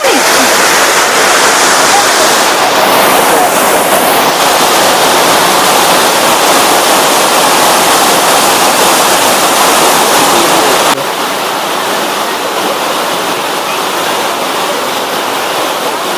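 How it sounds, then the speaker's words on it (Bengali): Elephant Falls waterfall in Meghalaya roars as a steady, loud broadband rush of falling water with no break, easing slightly in level toward the end. "ঝর্ণার গর্জন পাওয়া যাচ্ছে, এই ঝর্ণার গর্জনটা একদম অতুলনীয়"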